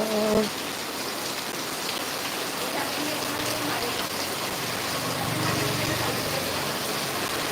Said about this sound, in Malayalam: മഴ മഴ മഴ മഴ പെരുമഴ പെരുമഴ പെരുമഴ